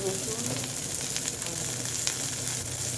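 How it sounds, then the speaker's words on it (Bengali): Garlic, green chili and onion frying in hot oil give a dense, constant crackling sizzle, close and loud, with a few faint stirring scrapes mixed in and no talk. "রসুন আর কাঁচামরিচ আর একটু পেঁয়াজ ভেজে নেবে তেল দিয়ে।"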